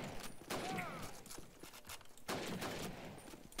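Rifle gunfire from German-side weapons in a Call of Duty 1 clan scrim match: two loud, sharp broadband bursts about two seconds apart, with faint in-game noise and voice chat around them.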